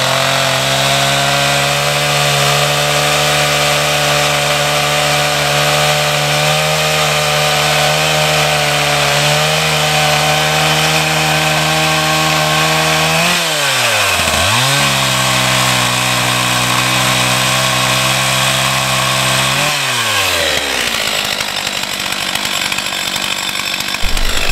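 A chainsaw runs steadily at high revs while cutting fresh into wood, loud and close, with two brief dips in engine pitch partway through and a rougher tone near the end; no talking.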